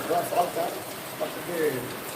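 Steady rain falls on a street in Niravi during a storm, giving a soft, even hiss with faint patters throughout, fairly close and unbroken.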